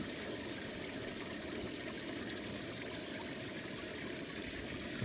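A steady, hissing spray of water runs continuously at an even level, with no pauses or voices.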